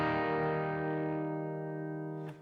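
A single distorted electric guitar chord rings out loud and sustained for about two seconds, heavy with effects, then is cut off abruptly at the end.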